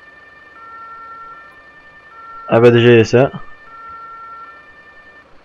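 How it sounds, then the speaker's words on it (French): Emergency vehicle siren in the video game Notruf 112, held as steady sustained tones throughout, briefly interrupted by someone speaking French over it. "Il y a une nouvelle sirène"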